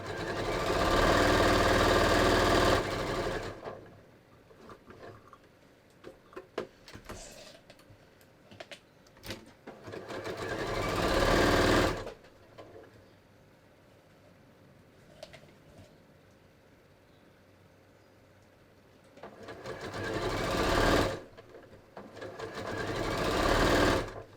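An embroidery machine stitching around a zippered bag in the hoop, with loud, fast mechanical needle clatter coming in long bursts that are separated by quieter pauses filled with faint handling sounds.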